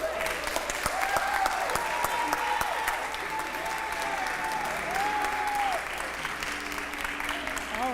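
Clapping from a crowd at a Kentucky voter-registration rally, a sustained burst of applause with a few whoops and voices mixed in, holding steady and easing slightly near the end.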